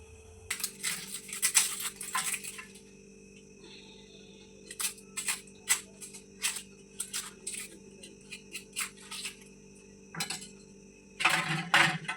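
An onion being chopped on a cutting board in a home kitchen, heard as bursts of crisp knife taps, close and moderately loud, with pauses between runs of cuts and a steady low hum underneath.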